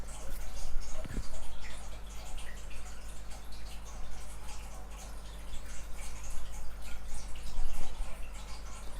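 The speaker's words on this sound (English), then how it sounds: "If you can hear water, guys, it's my fish tanks." Continuous trickling and bubbling water from fish tanks runs steadily at moderate volume with a low hum underneath.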